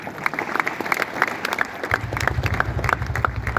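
Audience clapping at a motivational lecture in Bhose, Sangli: dense, steady applause runs the whole time, with a low hum joining midway.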